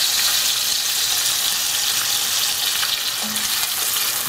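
Pineapple juice hits sizzling pork belly in a hot pan, raising a loud, dense, continuous frying hiss that holds steady throughout.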